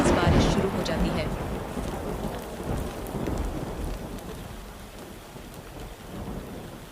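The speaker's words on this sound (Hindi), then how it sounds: "तभी अचानक आसमान में बिजली चमकती है और तेज बारिश शुरू हो जाती है।" Heavy rain pours down steadily with thunder rumbling low and loud at the start, fading into a continuous hiss of downpour in a village during a sudden unseasonal storm.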